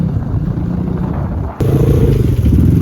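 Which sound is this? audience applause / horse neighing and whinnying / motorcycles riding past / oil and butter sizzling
motorcycles riding past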